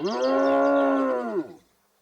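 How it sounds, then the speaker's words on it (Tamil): A bull's long, loud moo carries a steady tone for about a second and a half before fading out, heard on its own with no talk, voiced as part of a Tamil children's cartoon moral story. "அமைதியான காளை வந்தது."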